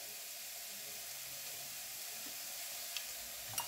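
Oil sizzles in a heated pot with rice for basmati, a soft steady hiss at low level with a couple of faint clicks near the end.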